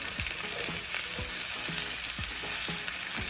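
Meat browns in a pan with a constant bright sizzle, with soft repeated scrapes and stirring knocks of a utensil coming through close up.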